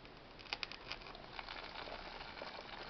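Lead melting and bubbling on car battery terminals, a close, steady hissing boil with scattered crackling pops and no voices.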